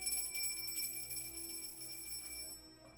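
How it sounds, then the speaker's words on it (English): A ship's bell rings to announce a cargo boat's arrival, with sustained ringing overtones holding steady through the moment and fading near the end, heard alone with no talk. "Tara hears the boat, and it's the bell."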